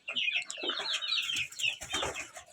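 Chickens and chicks in a small coop: high chick peeps and soft hen clucks mixed with brief rustling and a light wing flutter, close but quiet.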